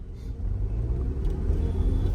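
A car engine rumbles steadily at close range, a low continuous drone with a slight rise in intensity, with gear noise and no voices.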